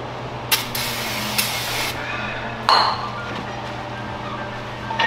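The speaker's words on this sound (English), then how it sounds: "just give it a nice little rubbing with some brake cleaner" Brake cleaner sprayed from an aerosol can onto Honda Civic Si brake rotors in a garage, several short hissing bursts of about a second each with a clink, over a steady low hum.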